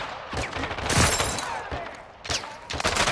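Rapid bursts of automatic gunfire in the Call of Duty Modern Warfare shooter, loud crackling volleys close by in two main clusters with brief lulls between.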